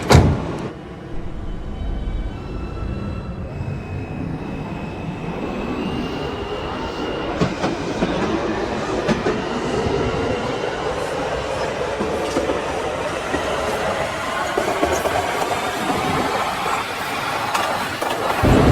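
New York subway B train running on the Queens Boulevard line, a loud close rumble of wheels on rails with rhythmic clacking and squeals as the car rolls along.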